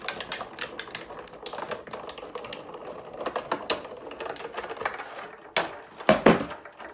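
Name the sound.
cutting paper flowers with Sizzix Big Shot die-cutting machine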